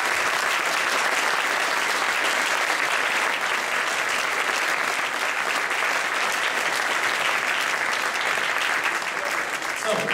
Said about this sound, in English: Big round of applause to anybody who does that.